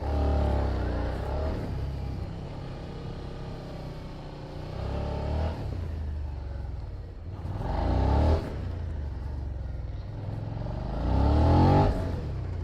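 A 2021 Suzuki SV 650 motorcycle being ridden through a gymkhana course, its engine repeatedly revving up and dropping back in several surges, close and loud, with no talking.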